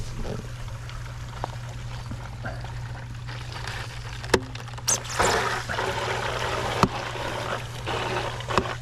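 Dirty water gushes steadily out of a pond pressure filter being back flushed outdoors, a continuous rushing wash with a few sharp knocks and splashes partway through.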